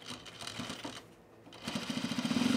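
Sewing machine tacking fabric onto a baby bag with a wide seam allowance, running in short bursts and then a steady, rapid needle chatter that builds louder, close up with no talk.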